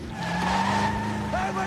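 Car tires skid with a sustained squeal over a steady engine drone during a hit and run, close and continuous, with voices faintly underneath.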